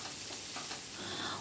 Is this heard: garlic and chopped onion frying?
yes